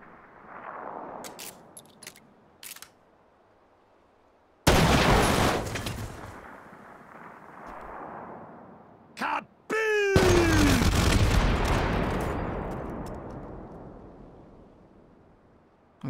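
Loud gunfire from April Fool's weapons in the VR shooting game H3VR: a sharp, booming report at about five seconds and another after ten seconds, each trailing off slowly, with a few small pops and a quick burst of shots between them.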